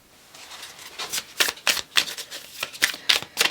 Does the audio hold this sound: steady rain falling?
no